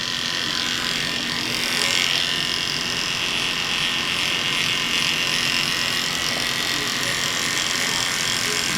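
Oster electric hair clippers buzz continuously and loudly at close range while cutting hair in a military high bald fade, with a steady drone throughout.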